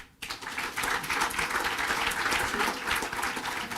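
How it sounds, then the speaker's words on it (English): Seated audience breaks into a round of applause after a talk, starting abruptly and settling into a thick, continuous clapping that stays strong and steady without voices. "If you can just join me in a round of applause."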